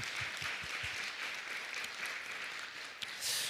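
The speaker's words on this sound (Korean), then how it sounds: "우리 하나님께 영광의 박수 드리겠습니다" A congregation at a Friday late-night prayer meeting gives applause, a soft, distant, even rush of many hands that continues throughout.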